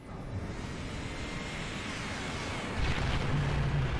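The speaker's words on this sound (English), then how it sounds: "We already have the correct charging sound," A Scarab's charging sound from Halo 3: a low, steady rumbling hum that swells and brightens near the end, like an energy weapon building a charge, with a rising hiss on top.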